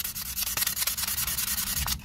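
Harsh, continuous scraping of sandpaper rubbed hard back and forth across the smooth, mirror-like metal platter of a hard disk, close up, in quick steady strokes with no talking.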